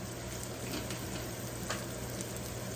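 A cheeseburger patty frying in a pan, giving a steady, soft sizzle that crackles evenly and continuously at low volume.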